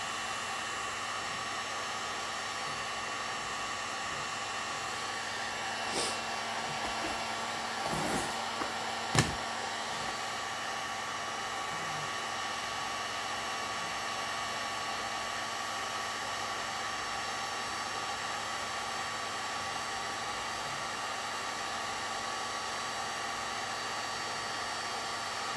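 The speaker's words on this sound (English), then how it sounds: "I'm going to heat a piece of wood up here." A DeWalt cordless heat gun heating a piece of wood, a steady loud blowing whoosh with fan whine held throughout, broken by a few brief handling clicks.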